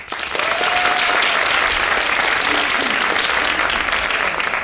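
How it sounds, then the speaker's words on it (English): An improv theater audience gives a round of applause, a full steady burst of clapping held for several seconds with faint voices mixed in. "So by a round of applause, how many folks have not seen the Theater of Public Policy before?"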